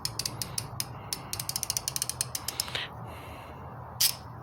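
A ratchet wrench with a 10 mm socket loosening a bolt on a 2007 car during key cylinder replacement, rapid close clicking bursts in quick succession, then a pause and one more brief click.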